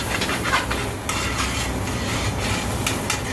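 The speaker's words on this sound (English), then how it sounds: "Let's add our ginger. Okay. Stir." Ginger being stirred in a pan makes a continuous, close scraping and rustling with soft clinks and a faint sizzle running underneath.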